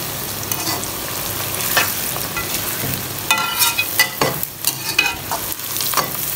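Onions for chicken biryani fry and soften in a pan, giving a steady close sizzle broken by repeated scraping stirs, with no voices.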